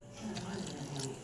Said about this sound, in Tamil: தேவையான அளவு தண்ணி ஊற்றிக்கலாங்க.